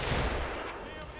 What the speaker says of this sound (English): Oh, that was a taser.